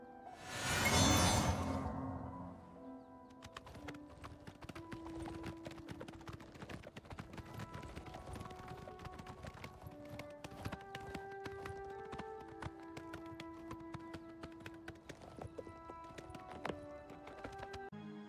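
A horse galloping in the video game Oblivion Remastered: a brief whooshing spell effect, then steady rhythmic hoofbeat clip-clops with faint tonal game chimes throughout, fairly quiet and without talking.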